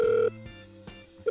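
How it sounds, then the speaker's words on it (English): A telephone rings on the line after a number is dialled, with two short ring bursts separated by a brief pause. "So I'm just punching the numbers and it's ringing."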